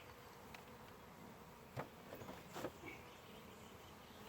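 Small, gentle honey bees in a month-old nuc hive buzz softly in a continuous faint hum, with a few louder passes near the listener.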